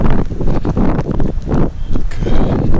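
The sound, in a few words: wind on trail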